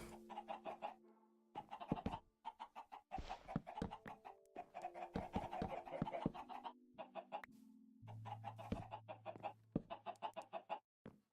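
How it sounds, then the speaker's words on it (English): Minecraft chickens in Modern Skyblock 3 clucking repeatedly, short choppy clucks in quick overlapping bursts with a few longer drawn tones, close and clear with no talking. "Hey chickens!"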